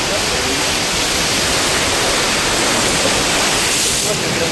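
Water splashes against a river shore at low tide, a loud, steady, unbroken rush of spray close at hand that fills the whole stretch with no breaks.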